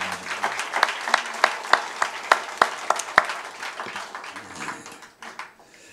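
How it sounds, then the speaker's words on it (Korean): A church congregation at a youth and student joint worship service claps together in a loud, rhythmic burst of distinct, evenly spaced claps. The claps fade and scatter toward the end, leaving quiet room noise. "너무 귀한 찬양 들었는데 박수 한번 크게 한번"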